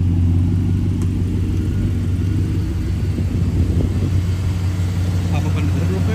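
A 2007 GMC Sierra SLE with an automatic 5.3-liter V8 and aftermarket exhaust runs steadily, a loud, close low rumble throughout, while a person talks over it.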